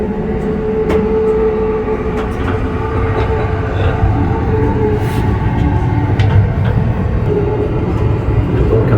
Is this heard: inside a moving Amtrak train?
yes